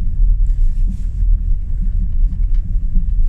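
A car passes along a wooded residential street in Jurmala, Latvia, a steady low rumble with wind buffeting, heard alone at moderate distance.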